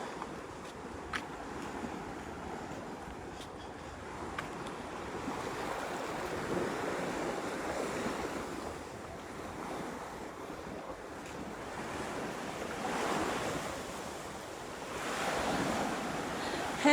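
Surf rolling onto the beach at the Sandals Royal Plantation resort, a steady wash of breaking waves with wind buffeting the microphone, swelling louder in a few surges toward the end.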